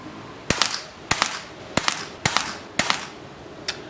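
.177 air rifle shots firing JSB 8.44 pellets, five or six sharp cracks spaced about half a second apart, each with a brief metallic ring and no talk.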